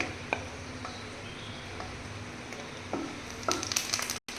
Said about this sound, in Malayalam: ഇനി ഞാൻ അതിനകത്തോട്ട് ആദ്യമേ നമ്മുടെ കറിവേപ്പില ഇടുകയാണ്